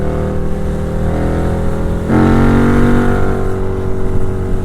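KTM Super Duke 1290 R motorcycle with a Rotwiler Performance Stage 3 exhaust and Bren Tuning, running on a dyno: a loud, close, steady engine drone that surges to a higher, louder pitch about halfway through.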